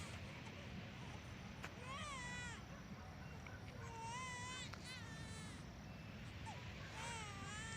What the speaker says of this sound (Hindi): एक छोटे बच्चे की रोने की आवाज़ आई अभी